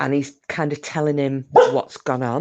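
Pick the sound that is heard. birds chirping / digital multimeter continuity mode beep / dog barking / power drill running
dog barking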